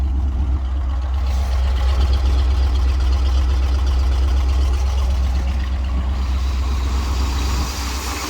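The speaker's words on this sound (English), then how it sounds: "I'm just letting it warm up. Got her idled down." A 1961 Dodge C800 ramp truck engine warms up at a low idle, with a carburetor vacuum leak and an unresolved radiator issue, producing a steady, loud, close rumble with no voices.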